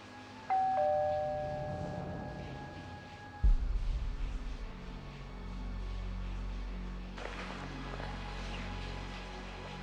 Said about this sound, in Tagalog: Nagulat lang ako dun sa doorbell.